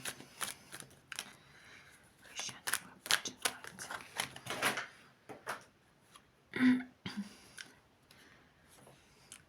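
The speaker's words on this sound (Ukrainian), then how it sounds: "У мене карти впали." Tarot cards spill and slap onto a surface in a quick scatter of soft, papery clicks and flutters, close and fairly quiet.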